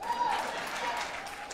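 A comedy club audience gives a brief smattering of applause and cheers that blend into a steady crowd murmur, with someone talking over the noise.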